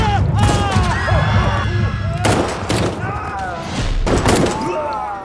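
Loud, dense gunfire in an action film scene crackles in rapid bursts with heavy echoing booms, while voices shout underneath.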